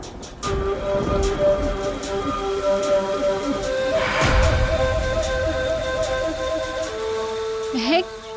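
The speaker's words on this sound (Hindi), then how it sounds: "बारिश हो रही है।" Steady rain patters on a surface with a roll of thunder midway, under tonal music and brief voices.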